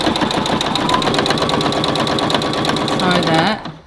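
Domestic sewing machine stitching fabric for a tube top seam, a steady rapid mechanical chatter running close and continuous before stopping abruptly near the end, with a voice talking over it.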